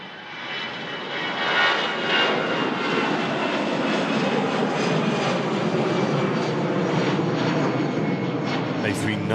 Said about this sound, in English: It's a really distinct buzzsaw sound from the MCF 56 engines.